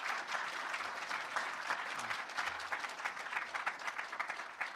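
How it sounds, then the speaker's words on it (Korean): An audience claps steadily after a lecture on efficient meeting methods, a dense sustained round of applause heard from within the hall. "우리 박사님께 큰 박수 부탁드리겠습니다"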